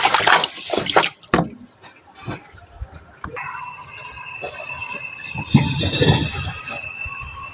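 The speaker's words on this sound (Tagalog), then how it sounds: "Hugas tayo kawali, mga idol." Tap water runs and splashes while a cooking pan is washed in a home kitchen sink, with uneven gushes, drips and clattering bursts close by.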